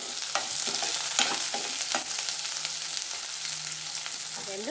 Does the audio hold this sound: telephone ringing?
no